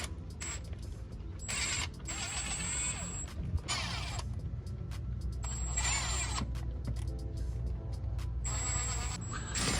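Ratcheting wrench clicks come in repeated bursts while rocker arms are tightened on a Chevy Silverado 5.3 V8 engine, close and moderately loud, with brief pauses between runs of clicks.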